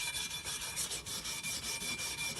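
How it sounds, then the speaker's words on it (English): Steel wool with metal polish scrubs over metal on a 1975 Series 3 Land Rover under restoration, a close, loud, rhythmic rasping of quick back-and-forth strokes with no talk. "So rub it with the steel wool and then wait for it to dry a bit."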